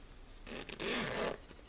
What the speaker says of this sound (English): and open the zipper